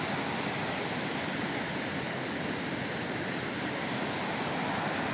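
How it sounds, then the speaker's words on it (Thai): Kaeng Khrom waterfall in Chumphon, Thailand: a steady, dense roar of falling water fills the whole clip as an unbroken broadband rush, fairly quiet and without voices. "แล้วก็เป็นน้ำตกแก่งโครมนะครับ"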